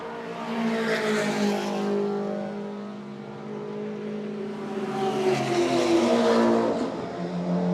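BMW F80 M3 turbo race cars passing on a circuit, two engine roars swelling and fading one after another, the second louder and closer, with a steady revving drone between them.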